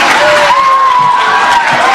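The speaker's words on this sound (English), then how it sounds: "maybe we could save our applause until the end of the round" An audience at a spelling bee breaks into a brief burst of applause and cheering, loud and close, filling the room for a couple of seconds with a murmur of voices mixed in.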